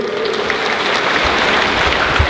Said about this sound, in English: How about a big round of applause to Cerise?